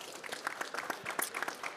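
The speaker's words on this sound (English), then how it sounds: "Give her a round of applause, please." Brief burst of audience applause at a climate-action dialogue session, a scattered mix of claps at moderate distance, fairly soft and lasting under two seconds.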